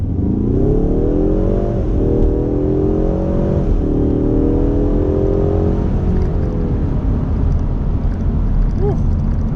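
A 2019 Ford Mustang with the 2.3-liter EcoBoost four-cylinder accelerating hard from a roll, its engine note climbing loud and close through several gear shifts, with brief dips between pulls and steady road and wind roar beneath.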